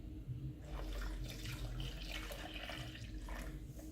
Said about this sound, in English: you take around 4 to 5 cups of the water that you used to steep your sea moss, and you pour that into the blender